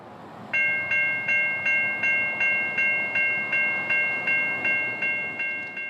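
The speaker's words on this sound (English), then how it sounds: "southbound B241 is knocking at the door, with quite the train of Tampa-bound potash behind some much appreciated foreign power" A southbound freight train hauling Tampa-bound potash sounds a bell-like repeating tone, about fourteen even rings at a steady beat, loud and close over a faint rumble.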